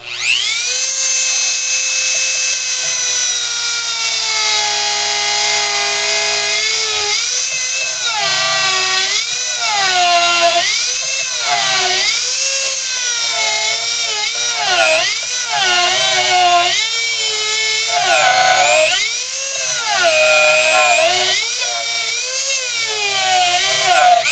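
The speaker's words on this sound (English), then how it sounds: "We're going to use our cutting to grind this out in here." A rotary cutting tool grinds out the wood of a hand-carved ventriloquist dummy figure, a loud, continuous high whine whose pitch rises and dips repeatedly as the bit bites into and eases off the wood.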